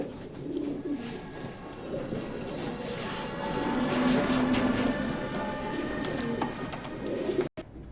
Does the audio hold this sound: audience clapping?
no